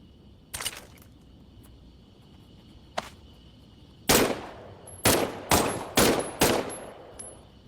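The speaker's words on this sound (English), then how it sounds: "why don't you test fire your weapon?" A weapon being test-fired in the VR game Medal of Honor: Above and Beyond, with a few isolated shots followed by a rapid cluster of loud cracks near the end over a faint electronic hum.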